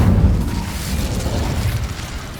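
An Incendio fire spell is cast in Hogwarts Legacy, a loud whooshing burst of flame with a low rumbling roar that fades slowly.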